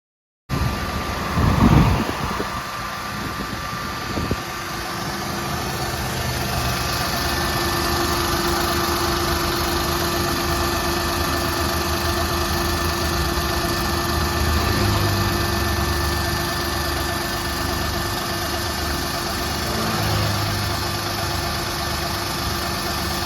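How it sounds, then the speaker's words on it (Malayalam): A Maruti Alto 800 car engine cranks and catches with a brief rough burst, then settles into a steady, loud, even idle hum that runs on alone, with a faint high whine above it. "ഈ ഒരു വാഹനം ഒന്ന് സ്റ്റാർട്ട് ചെയ്ത് നമ്മൾക്കൊന്ന് നോക്കാം"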